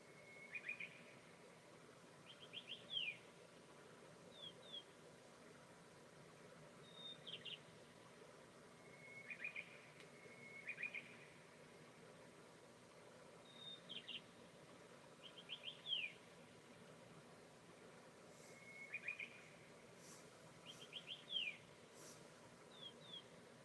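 Recorded birdsong with a waterfall plays from a projector: faint, thin chirps and tweets come in small clusters every few seconds over a soft, steady rush of falling water, quiet and distant.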